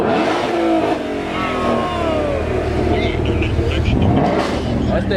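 A Ford GT500 engine revs hard at a loud, busy car meet, its throaty roar rising and falling with shifting whine over crowd chatter and other idling cars nearby.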